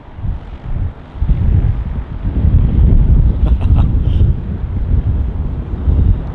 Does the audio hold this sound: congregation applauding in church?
no